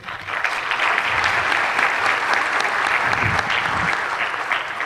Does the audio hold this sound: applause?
yes